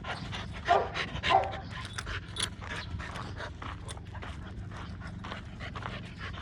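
An American pit bull terrier puppy panting in a yard, quick steady breaths close by with a couple of soft whimpers early on.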